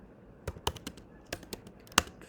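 Keystrokes on a Mac keyboard as a command is typed into Terminal: a sparse, irregular run of crisp clicks, close and fairly quiet, with one sharper key strike near the end.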